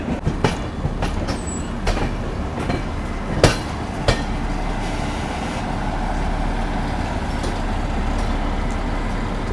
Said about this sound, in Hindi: तो 9:30 पर अपनी ट्रेन निकल चुकी है शाहगंज जंक्शन रेलवे स्टेशन से।